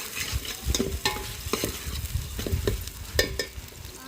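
Onions and green chillies fry in hot oil with a steady sizzle while a spatula stirs them, knocking and scraping against the pan in an irregular rhythm, close and fairly loud.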